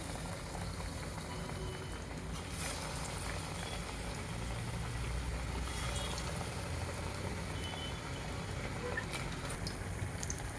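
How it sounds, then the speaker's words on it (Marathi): Batter-dipped potato slices for bhaji fry in hot oil, giving a steady, dense sizzle and bubbling that runs unbroken at a constant level throughout. "बटाट्याचे असे स्लाइस घ्यायचे आणि यामध्ये असे बुडवून तेलामध्ये सोडायचे."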